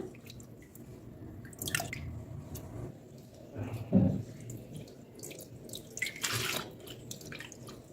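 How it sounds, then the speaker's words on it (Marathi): Grated potato is washed by hand in a bowl of water to rinse out starch, with close sloshing, dripping and squishing bursts at irregular intervals and no talk. "त्यासाठी मी परत एकदा हा किस धुवून घेते"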